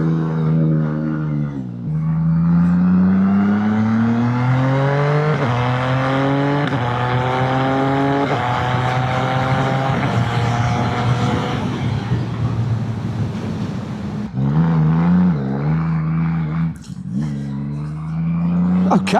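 A CF Moto 675NK naked motorcycle with an aftermarket exhaust pipe pulls away and climbs through the gears in repeated rising sweeps, loud and close, then drops back and accelerates again.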